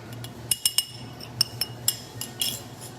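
A utensil stirs keto chocolate banana cake batter made with a chocolate cake mix. Sharp metallic clinks ring against the bowl at irregular intervals over soft scraping, close and moderately loud, with no talk.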